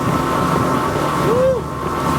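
A Sailfish 360 CC center-console boat with triple 350 outboards accelerates, a loud continuous engine drone and rushing wind roar over open water, with a brief voice in the middle.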